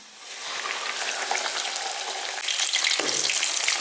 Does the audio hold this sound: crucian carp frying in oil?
yes